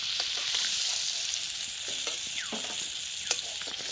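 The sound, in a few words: prawns frying in oil in a pan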